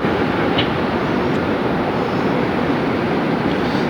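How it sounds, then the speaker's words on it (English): An American Airlines jet takes off at Phoenix Sky Harbor airport on a hot day, giving a loud, continuous broadband engine roar that holds steady throughout with no talking. "All right, I heard 781 American clear for takeoff."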